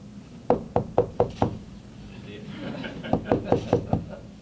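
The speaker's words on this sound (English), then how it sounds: "Knock on wood." Knocking on a wooden surface, two quick bursts of five sharp, evenly spaced raps each, close and fairly loud, with a short gap between them and background noise from a press room.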